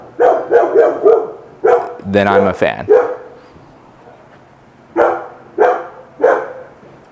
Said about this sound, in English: So there's a barking dog next door